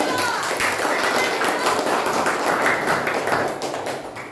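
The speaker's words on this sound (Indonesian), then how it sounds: "Tepuk tangan untuk kelompok 1." A class of third-grade pupils claps for a group after its presentation: dense, steady hand clapping fills the room for about four seconds, fading slightly at the end.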